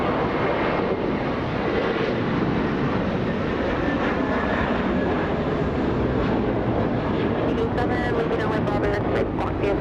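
An American Airlines Airbus A321 takes off at LAX, a loud, steady, broad engine roar that holds throughout, with a commentator speaking over it.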